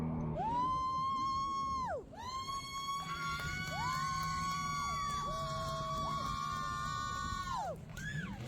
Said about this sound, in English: You can hear me there yelling